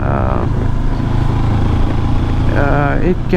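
A 2022 Honda CB500X motorcycle engine pulling up a steep hill, a steady loud drone with a rider talking over it throughout.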